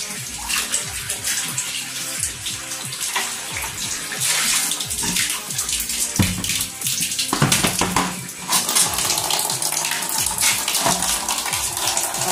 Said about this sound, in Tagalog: Ito sa tub, naglagay ako ng tubig.